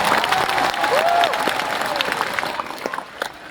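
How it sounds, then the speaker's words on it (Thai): A seminar audience applauds a doctor and a CEO at a SuccessMore business event. The clapping is thick and lively with a few cheers mixed in, then thins out and fades over the last second. "ปรบมือให้กับคุณหมอแล้วก็ซีอีโอน้องปฏิภาต"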